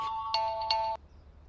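A telephone rings at a reception desk with a synthetic ringtone: three quick, clear tonal bursts in a row, then it cuts off into quiet.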